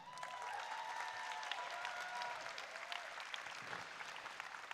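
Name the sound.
applause for robotics alliance team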